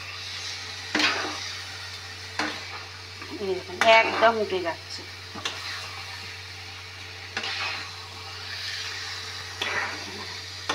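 Carrot halwa frying and being stirred in a pan, with soft sizzle under scraping spoon strokes and a brief burst of clattering near the middle, while someone talks over it.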